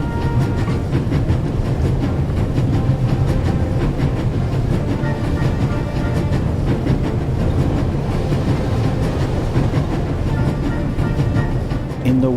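A train racing at full speed in the video game The Raven Remastered gives a loud, steady rumble with rhythmic rail clatter that runs unbroken for the whole stretch.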